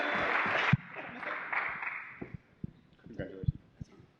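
A crowd at the Pwnie Awards 2016 ceremony gives a round of applause, a dense burst of clapping that quickly thins into a handful of scattered, sharp individual claps and faint murmurs.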